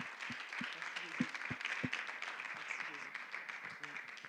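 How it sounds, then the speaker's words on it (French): A church congregation applauds during a worship service, a steady wash of clapping with a few sharper nearby claps standing out, while voices murmur underneath. "Je voudrais qu'on applaudisse le Seigneur."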